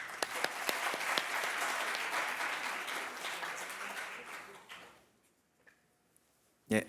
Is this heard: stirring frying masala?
no